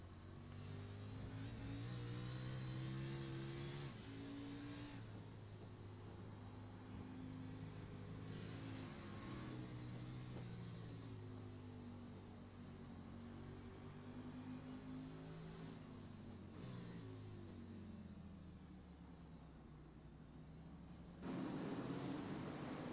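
Onboard race car engine in the iRacing sim at the Charlotte Roval road course, a sustained loud engine drone rising and falling in pitch through repeated upshifts and downshifts, with no talk over it.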